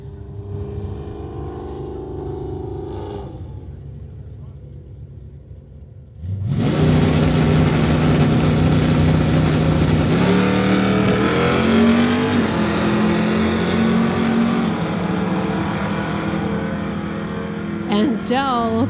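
A 1969 Camaro launches hard at a street-legal drag race, front tires lifting, its engine jumping from a quiet idle to a loud, sustained roaring rev that holds close and steady to the end.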